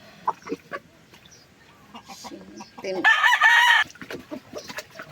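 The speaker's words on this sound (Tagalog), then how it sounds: "Battle cock." A gamecock crows once, loud and close, with people talking and handling sounds before and after the call.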